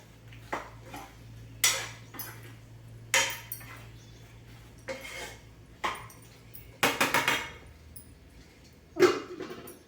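A ladle knocks and scrapes against a pot while soya chunks are mixed into a meal maker biryani, about a dozen sharp metallic clanks spaced unevenly, some in quick clusters, over a faint steady hum.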